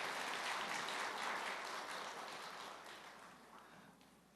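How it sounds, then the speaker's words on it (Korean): A church congregation applauds the worship team together, a dense, steady wash of clapping that fills the room and slowly thins and fades over a few seconds, with no talk. "우리 수고해준 많은 물소리 팀에게 우리 격려의 박수 부탁드리겠습니다"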